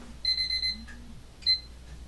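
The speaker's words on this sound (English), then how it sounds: "That was my alarm to take my medicine," Alarm clock reminder beeping for a medicine dose: a quick run of bright electronic beeps, then a single short beep after a pause, loud and close over a quiet room.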